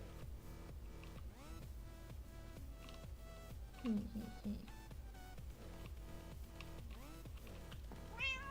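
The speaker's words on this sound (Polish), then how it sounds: "Słyszałam kotka." Cat meowing in the video game Minecraft, with several repeated meows over steady game music, some voices faintly mixed in.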